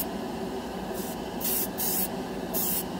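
Short bursts of airbrush spray hiss as Vallejo liquid metal paint goes onto bare plastic, four puffs of varying length over a steady background hum, close and fairly loud.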